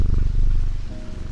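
A shop cat in the game Strange Antiquities purrs steadily while a hand pets it, a close, continuous low rumble with a soft pulsing rhythm that fills the whole moment.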